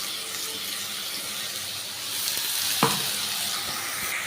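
A spice paste fries in a pan with tomato for a prawn and taro dish, giving a steady close sizzle that swells midway, with a sharp utensil knock and stirring scrapes, no voices.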